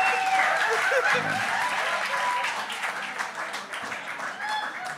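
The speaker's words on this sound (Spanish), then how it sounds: "¡Aplauso, muchachos, por favor!" Audience applause at a live talk-and-music show, a dense wash of clapping with a voice briefly audible over it, gradually thinning toward the end.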